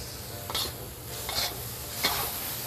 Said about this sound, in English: You can see it's sizzling hot now.